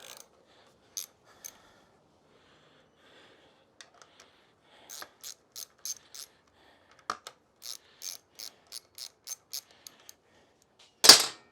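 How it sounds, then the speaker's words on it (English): A ratchet loosens the front wheel bolts on a 2004 Honda CRF250X motorcycle in short bursts of sharp metallic clicking, separated by quiet gaps. A louder clunk comes at the end. No voice is heard. "From there, you can loosen these two bolts up."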